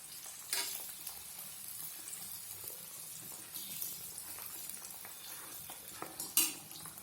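Dal roasts in a pan over a high flame for a spicy mixed namkeen, giving a soft steady sizzle with occasional scraping stirs and a few sharp clinks, moderately quiet and without voices.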